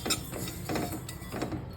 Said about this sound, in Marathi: तर हे बघा कसा आवाज यायला लागला तिळाचा पण